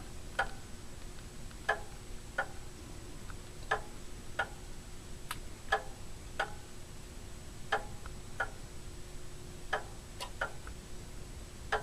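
A 1929 Standard Electric Time Company 60-beat master clock ticks steadily, with sharp, evenly spaced clicks roughly once a second over a low, quiet room hum and no voices.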